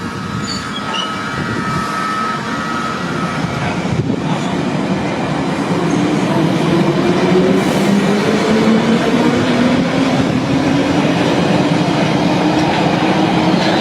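London Underground Piccadilly line train pulling out of Northfields station at night, a loud steady rumble of wheels on rail with a rising motor whine as it gathers speed, continuous with no talk.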